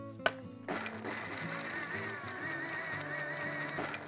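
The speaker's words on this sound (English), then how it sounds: "In the blender. Okay? We can go ahead and we can fire this up." Kitchen blender whirring through onion, lime and coriander, a click and short pause before the motor kicks in, then a steady close, loud whine with grinding texture, no voices.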